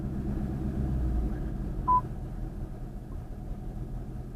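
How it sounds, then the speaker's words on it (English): A 2020 Ford Mustang GT gives a single brief electronic chime as traction control is switched off, a short tone over the low rumble of the idling engine in the cabin. "that's the sound the launch control makes when I turn it off, when I turn off traction control"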